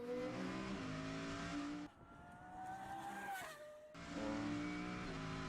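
Boss Hoss V8 motorcycle engine running and revving close by, a loud throaty roar with rising and falling pitch, briefly easing off mid-way before surging back to full volume.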